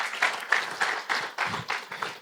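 Conference-goers at a financial literacy training event clap for a speaker, the applause arriving in uneven, surging bursts with brief dips between them, moderately loud in the room.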